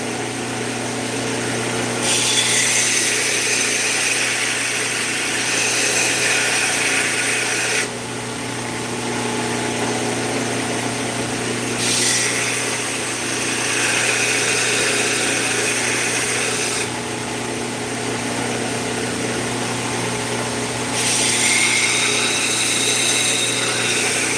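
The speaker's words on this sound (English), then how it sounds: "I'm going to now start grinding this bevel here" Power grinder working the bevel of a hand-made knife blade, a steady loud whine with hissing bursts as the steel is pressed on and lifted off in roughly four passes, over a constant motor hum.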